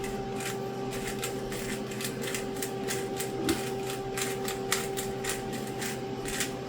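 A pepper mill grinding fresh pepper, giving a quick run of dry, crackly clicks in a steady rhythm over a constant low hum, with no voices.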